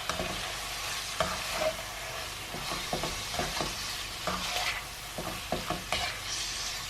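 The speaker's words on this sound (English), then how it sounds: "and the red chilies, and the Chinese 5 spice, and we're going to give that a mix" A beef stir fry with red chilies and Chinese five spice is stirred in a pan, with a steady sizzle and a rhythmic series of spoon scrapes and taps, close up and without speech.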